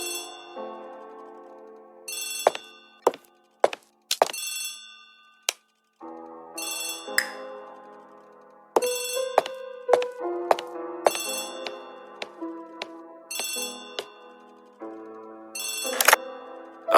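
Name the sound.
telephone ringing in audio drama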